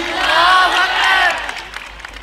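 A crowd roars a loud takbir chant in unison at an Islamic gathering in Pakistan, voices swelling for about a second and a half, then fading into scattered calls and murmurs.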